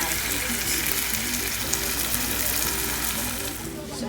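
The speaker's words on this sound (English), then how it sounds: "the onion and the tomato are in the frying pan" Onion and tomato fry in a pan over medium-high heat, giving a steady, close sizzle with a constant crackling hiss.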